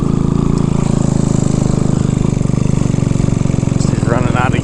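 A small, modified Honda motorcycle engine runs loud and close with a rapid, steady putter that starts to falter and sputter near the end as it runs out of gas.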